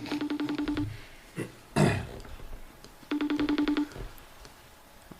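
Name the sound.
telephone ringing, waiting for someone to answer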